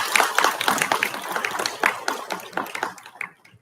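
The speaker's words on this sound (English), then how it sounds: "So big round of applause for them." A crowd at a school district meeting claps in lively applause that gradually thins out and fades to silence.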